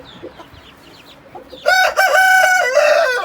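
Chickens in a coop, with soft clucking at first and then a loud, close rooster crow ringing out over the last half.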